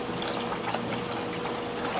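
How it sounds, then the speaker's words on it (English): Water is poured into gravy cooking in a pan, a soft, steady trickle and faint splashing at close range, low in level with no voices. "I add a little water."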